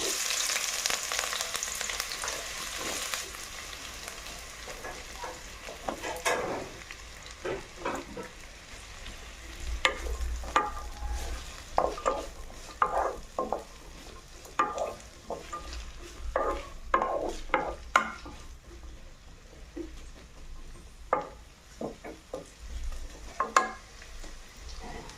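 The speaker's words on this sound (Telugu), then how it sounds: "ఆయిల్ కాగింది, ఉల్లిగడ్డ వేద్దాం." Onions dropped into hot oil in a pot for chicken dum biryani sizzle steadily, with frequent spatula scrapes and metal clinks against the pot spread across the stretch, nearby and without speech.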